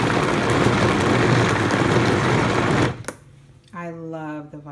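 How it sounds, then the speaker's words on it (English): A Vitamix blender roars loudly and steadily for about three seconds, then cuts off abruptly, and a voice begins speaking shortly afterward. "we've got our Vitamix. We're going to turn it on the level we want it to go to."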